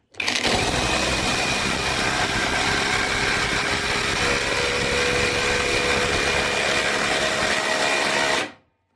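A Parkside cordless drill in performance mode drives a screw, a loud steady high-pitched motor whine held continuously for about eight seconds before stopping abruptly.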